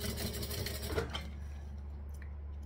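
A sewing machine stitches the end of a Riptide bag closed over double-sided tape, a fast steady mechanical whir that stops after about a second, leaving low motor hum.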